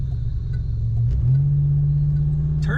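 A 1987 Buick GNX with a turbocharged engine gives a close, steady low rumble that steps up in pitch partway through as it pulls, then holds a stronger, even drone.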